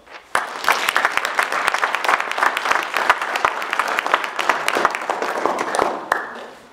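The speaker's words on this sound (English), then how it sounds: "I'll ask you for another round of applause." A crowd at a public input session in Valemount gives a round of applause for grant applicants, steady dense clapping starting abruptly and continuing for several seconds before tapering off, with little talk.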